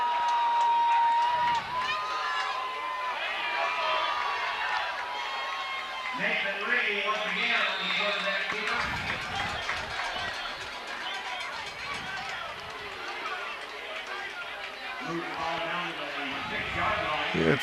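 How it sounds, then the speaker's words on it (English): Crowd at a night high school football game, Metamora vs Pekin, a broad murmur with rising cheers swelling beneath an announcer's ongoing commentary. "Pretty big crowd for Pekin here tonight."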